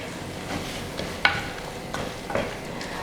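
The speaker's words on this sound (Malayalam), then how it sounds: "ഇനി ഇതുകൂടി ചേർത്തിട്ട് നന്നായിട്ടൊന്ന് വഴറ്റി കൊടുക്കാം." Tomato with cashew nut paste sautés in a pan, a low continuous sizzle broken by a few light scrapes and taps of a stirring spoon.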